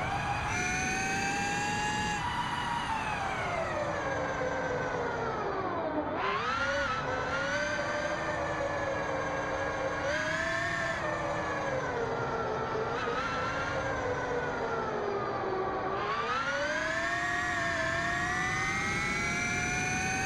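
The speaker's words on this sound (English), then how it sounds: "this is the only electric naked bike in the game" An electric naked motorcycle ridden around a track in the Ride 2 racing game gives a steady, loud electric-motor whine. Its pitch rises and falls with speed and dips briefly a few times, with no pauses across the run.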